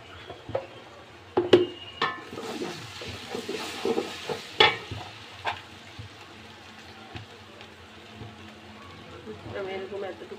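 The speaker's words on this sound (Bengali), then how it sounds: "মশলাটা আমি একটু তেলের মধ্যে এভাবে ভেজে নিয়ে" Ginger-garlic paste and spices stirred in hot oil for a beef vegetable khichuri, giving a soft steady sizzle under irregular spoon scrapes and clinks against the pan, close and moderately loud, with a brief faint voice.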